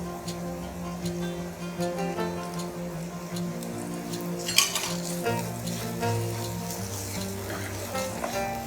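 Red chilli, coriander, cumin, dry ginger and dry mango powders fry for moong dal kachori filling in a pan. A steady close sizzle runs throughout, with a spoon scraping and stirring and a brief louder clatter midway.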